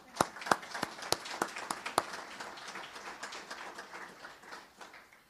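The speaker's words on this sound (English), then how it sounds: "So I want to applaud her for her service." Sparse applause at a Groton business forum honouring a departing rural affairs official, with a few sharp distinct claps at first and then thinning into faint scattered clapping.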